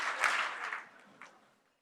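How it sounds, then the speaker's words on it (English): Audience at a conference hall clapping three times in response to a call, a short burst of hand claps, fairly faint, that fades out quickly. "If you can hear my voice, clap 3 times."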